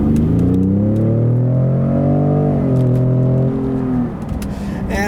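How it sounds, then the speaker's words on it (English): A 2019 Ford F-150 Raptor's engine pulls hard under acceleration, loud and close from inside, with its pitch rising through gears before easing off near the end. "just give you a little sample of this engine note and the performance here."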